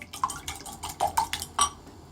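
An egg being beaten in a bowl with a whisk, several light clinking taps against the bowl in an uneven rhythm, close and fairly quiet with no talking.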